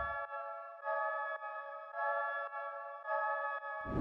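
Sidechained keys chord pattern in FL Studio with a vinyl texture, soft pulsing chords that duck and swell in a steady rhythm, thin and filtered with lows and highs trimmed away.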